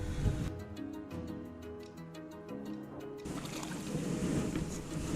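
A small fishing boat runs under engine power on a lake, with a steady motor drone mixed with water splash and wind buffeting the microphone, no talk.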